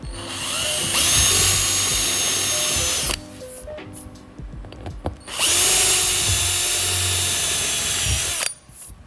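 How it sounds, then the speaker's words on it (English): A power drill with a step bit whines loudly in two long bursts of a few seconds each, enlarging a 1/8 inch hole in duct work, with a short quieter pause of handling noise between them. "just start with an 1/8 inch hole, and then I unibit it out a little bit bigger."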